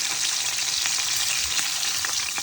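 Small crucian carp frying in oil in a pan at a village home, a steady broadband sizzle with crackling pops running throughout, close and loud with no talk.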